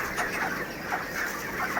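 White broiler chickens, 29 days old, cluck and murmur continuously at moderate distance in their shed, a soft overlapping chorus with no speech.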